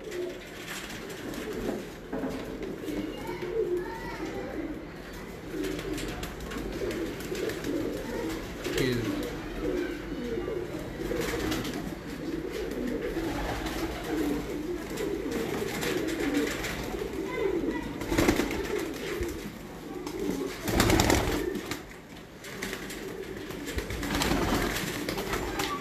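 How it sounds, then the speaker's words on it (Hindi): Soft, rolling coos from a flock of Sialkot flying-breed pigeons carry on continuously through a long stretch of outdoor background noise, with brief louder bursts and a few faint voices mixed in. "कबूतर इस वक्त पर छोड़ देते हैं हाथ में"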